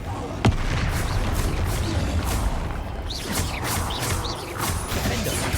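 Confringo fire-blast spell in the Hogwarts Legacy video game: a sharp loud crack near the start, followed by a continuous rumbling din of spell impacts and booms, with faint voices in the background.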